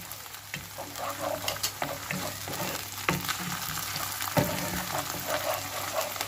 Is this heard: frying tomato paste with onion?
yes